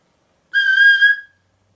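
A flute mouthpiece blown on its own like a whistle gives a single clear, steady high tone lasting under a second, loud and close against silence.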